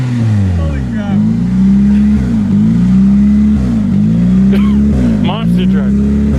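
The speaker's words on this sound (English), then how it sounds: "Monster truck." A loud, close monster truck engine revs hard at a demolition event, its deep throaty roar rising and falling in repeated surges; people talk over it.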